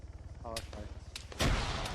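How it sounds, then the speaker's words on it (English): Distant gunfire and grenade blasts rumble in the Arma 3 video game, a couple of sharp shots followed by a heavier booming detonation, under steady engine drone. "Got a bit of gunfire, a bit of grenadage going off."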